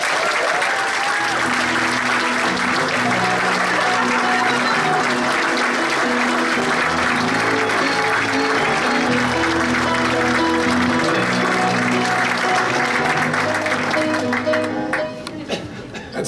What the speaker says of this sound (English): Please welcome Congressman Joe Kennedy.